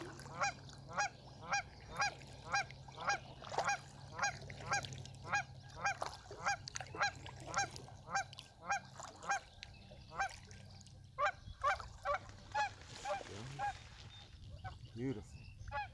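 Geese honk repeatedly at a wetland, a steady run of fairly distant calls in rhythmic bursts over a low background hum, with some duck-like calls mixed in.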